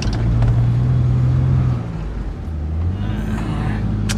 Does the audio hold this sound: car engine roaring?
yes